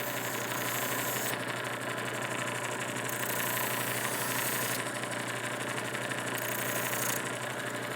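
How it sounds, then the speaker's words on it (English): A powered sander runs steadily on a leather piece in a leather shop, a continuous close mechanical whir whose high hiss swells and eases as the leather is pressed on and off. "On the sander. Let me sand this down a little bit."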